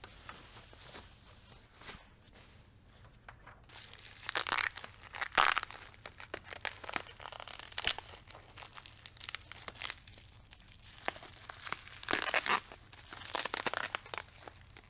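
Packing tape ripping and crinkling off a boxed DOOD aftermarket grille for a Ford F-150, in bursts of tearing and rustling, close and fairly loud, with quieter handling between pulls.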